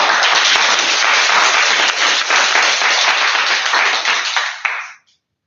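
A room full of people at a Toastmasters club meeting claps loudly and densely for about five seconds before the applause cuts off abruptly.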